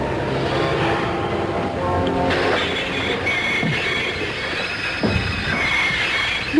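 Orient Express train running on rails, with a continuous rumbling roll, rhythmic wheel clatter and occasional squeals as the carriages travel, heard steadily from on board with no talk.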